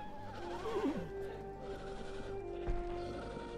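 A wild horse lets out a loud, wavering whinny early on, followed by quieter snorts and faint hoof sounds against a steady outdoor hum.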